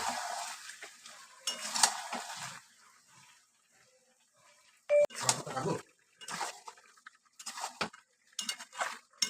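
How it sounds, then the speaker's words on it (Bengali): Chicken curry is stirred and sautéed in a covered pot in a home kitchen, with intermittent scraping and metallic clinks of a utensil against the pot between quiet gaps, close and fairly soft. "দিয়ে জিনিসটা আমি ঢেকে ঢেকে একটু কষে নেব"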